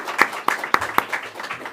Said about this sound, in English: let's give a round of applause to all of these speakers today.